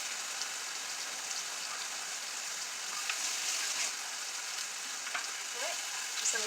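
Chunks of cabbage fry in a hot pan seasoned with pepper, giving a steady soft sizzle with faint crackles and a few light stirring clicks, heard alone.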